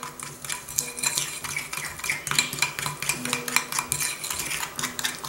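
A utensil stirs meringue mixture with vanilla in a bowl, giving steady close scraping and clinking against the bowl in a repeating rhythm, with no voices.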